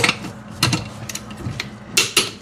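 A wrench clicks while coilover bolts are tightened on a Saturn Sky: a few short, sharp mechanical clicks spaced irregularly, close and moderately loud, with no talking.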